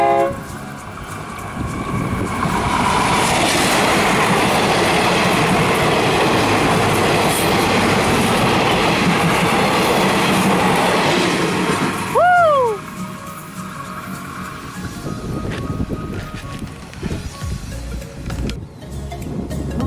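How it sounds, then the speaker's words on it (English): A train rolls past a railway crossing in Thailand loudly with rumbling wheels and clatter for several seconds, then a brief squeal as it fades, leaving quieter ambient noise. "Right now the trains has passed."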